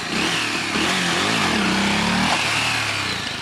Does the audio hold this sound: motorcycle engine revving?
yes